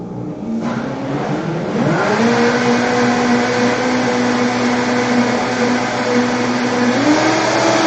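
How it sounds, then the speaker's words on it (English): A blender runs steadily for the whole stretch, blending quiche filling of eggs with nutmeg for a broccoli and cheddar quiche; its motor whine is loud and close and rises slightly in pitch as the blades spin up. "And then let's go blend it up."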